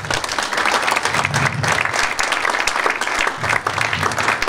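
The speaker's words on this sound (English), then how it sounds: "let's just give them a big applause." A hall-of-fame banquet audience gives a loud, sustained round of applause, dense clapping that holds steady from start to finish with a faint murmur of voices underneath.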